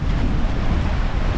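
Strong wind roars over a rough sea during a typhoon while fishing is halted, a dense continuous rush of gusts and surf up close.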